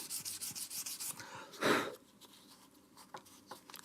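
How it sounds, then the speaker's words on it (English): Frets on a Fender Jaguar are polished by hand to remove scratch marks, giving quiet, rapid back-and-forth rubbing strokes close by, with one louder scrub in the middle. "Polishing, polishing, polishing."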